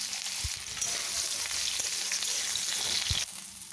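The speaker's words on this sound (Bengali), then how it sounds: "এরপর কাঁচকলাটা ভেজে নেব।" Raw green banana pieces frying in hot oil in a pan give a steady close sizzle, with a couple of soft stirring knocks.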